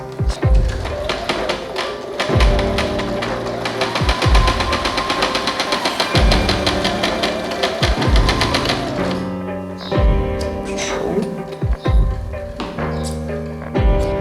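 A sewing machine stitches the tongue of a handmade espadrille to the toe, rapid close mechanical stitching in bursts with thumps between, then pauses and shorter runs toward the end.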